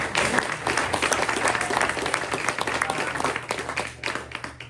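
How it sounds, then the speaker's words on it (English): A luncheon audience gives a round of applause for student champions at a press luncheon, sustained dense clapping from a roomful of people that stays strong and then tapers slightly toward the end. "one more round of applause for our standout champs over here"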